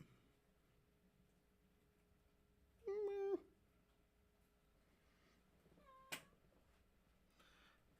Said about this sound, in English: I found a little kitty cat.